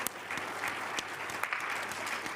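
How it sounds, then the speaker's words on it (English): Steady audience applause follows a presentation at a World Economic Forum climate session, dense clapping from a room of people sustained without pause and no voices on top. "Can we have another round of applause for amazing presentation?"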